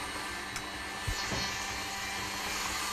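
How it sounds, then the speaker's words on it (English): Electric mixer whirring steadily through cake batter with an egg added, a constant motor hum with a few brief bumps, fairly quiet and alone. "you can add it while the mixer is still mixing"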